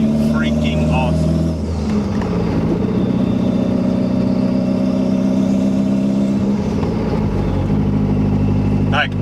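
A Toyota MR2 Turbo with a 3SGTE engine swap drives along, heard from inside as a loud, steady engine drone with a shift in pitch around the middle as it changes speed.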